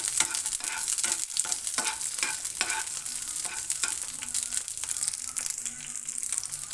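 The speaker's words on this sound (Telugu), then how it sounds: "పచ్చిమిర్చి ఫ్రై చేసుకుందాము మిర్చి ఫ్రై అయిపోతుంది కదా" Continuous crackling sizzle of chillies frying in oil, with repeated stirring scrapes against the pan throughout, close and steady.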